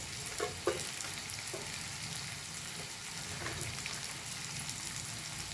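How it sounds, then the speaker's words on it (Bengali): Tomatoes with salt and turmeric sizzle steadily in a pan, a soft continuous hiss like light rain, with a few spatula scrapes as they are stirred. "এবারে নাড়তে থাকবো, যতক্ষণ না নরম হয়ে যাচ্ছে টমেটোটা ততক্ষণ আমি এটাকে নাড়তে থাকবো"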